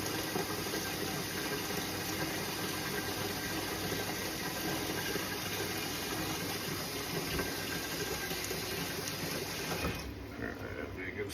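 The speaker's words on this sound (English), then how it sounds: "I'm gonna put some cold water in here" Cold water runs from a kitchen tap into a sink for a turkey brine, a steady, loud, close rushing stream that continues for about ten seconds before easing off.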